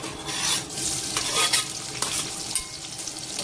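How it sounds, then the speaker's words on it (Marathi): Finely chopped onion sautés in hot oil in a kadhai, a steady, close, loud sizzle broken by scraping stir strokes and crackling bursts, with no voices. "तेल तापलं, यात मी ॲड करणार आहे बारीक करून घेतलेला कांदा"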